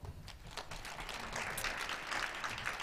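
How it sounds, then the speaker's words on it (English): Audience applause at a migraine innovation hackathon opening, welcoming a speaker to the stage; a steady, moderately distant wash of many hands clapping that swells slightly and holds for a few seconds with no talk. "Let's welcome him with a welcoming applause."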